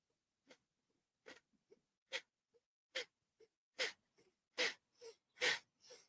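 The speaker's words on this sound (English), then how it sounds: "Now, as we do this breath of fire, inhale, reaching your arms up, spreading your fingers wide, and exhale, fist down by your shoulders." Short, forceful nasal exhalations of a breath-of-fire breathing exercise, coming in an uneven run of about a dozen puffs that grow louder and quicker toward the end, close and alone.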